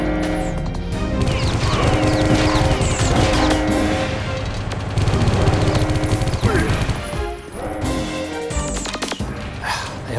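Gunfire in the shooter game Geist, with dense, sustained bursts of shots and crashes running continuously under game sounds and some speech.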